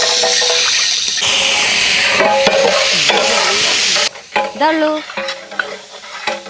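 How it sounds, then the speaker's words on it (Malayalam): Papaya sautéed in oil in a pan for a Kerala-style papaya chicken curry, a loud steady sizzle with scraping stirs for about four seconds, then quieter intermittent frying hiss and utensil scrapes near the end. "പപ്പായ നമുക്കൊന്ന് എണ്ണയിലിട്ടൊന്ന് വാട്ടിയെടുക്കാം പപ്പായ നന്നായിട്ട് നമുക്ക് വഴറ്റി വഴറ്റിയെടുക്കാം"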